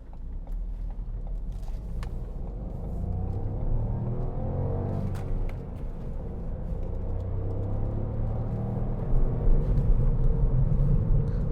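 A 2016 Ford B-Max 1.0-litre EcoBoost three-cylinder drives through traffic, its steady low engine rumble holding close throughout and swelling slightly toward the end as it pulls along.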